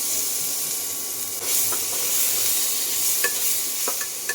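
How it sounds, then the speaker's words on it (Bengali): Chopped ginger and garlic frying in hot oil in a kadai, a soft steady sizzle with a few light stirring clicks, close and fairly quiet. "আদা রসুন কুচিটা একটু ভাজা ভাজা হয়ে যাবে"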